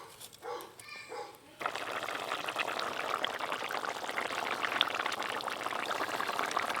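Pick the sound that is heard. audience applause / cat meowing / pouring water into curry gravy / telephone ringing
pouring water into curry gravy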